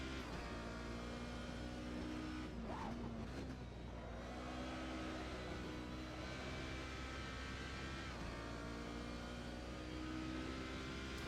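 A Ginetta G55 GT4 race car in Assetto Corsa racing around Oulton Park, its engine droning and revving continuously with shifting pitch, a brief lift and gear change partway through, loud and alone.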